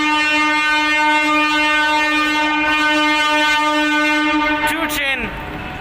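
Freight train passing through Santragachi station, its horn sounding as a long, loud sustained harmonic tone for several seconds before breaking off near the end, with rumbling rail noise underneath.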